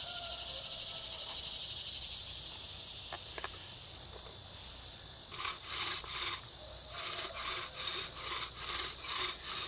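A bow drill spins in its socket while making fire with an MSK-1 survival knife, giving a rhythmic back-and-forth rasping of wood on wood. The strokes come quicker and louder in the second half, over a steady insect-like hiss outdoors.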